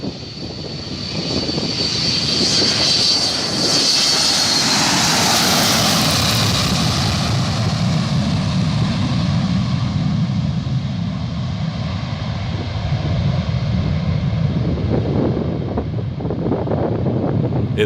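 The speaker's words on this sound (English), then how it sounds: "This Boeing 727 pilot couldn't wait to retract the landing gear." A Boeing 727 airliner on takeoff with its landing gear retracting, a loud, sustained jet roar with a high whine near the start and wind buffeting that stays steady throughout.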